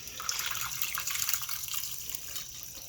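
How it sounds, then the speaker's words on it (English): Cooking liquid pours steadily from a pot of cooked beans into a bowl, a continuous close splashing trickle with no talk. "I'm going to go ahead and drain these beans. I'm going to keep the liquid"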